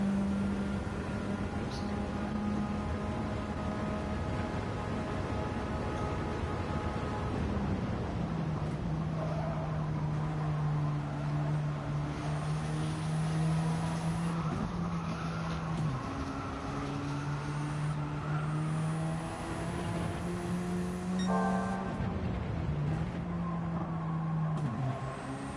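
Onboard engine of race car 71 in a racing video game, a continuous loud drone whose pitch rises and falls with gear changes and throttle through the lap.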